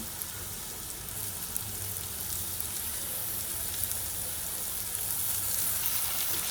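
Potatoes and soaked chana dal hitting hot masala in a pan for a traditional Marathi ridge gourd curry, giving a steady, close sizzle and hiss throughout with no talking.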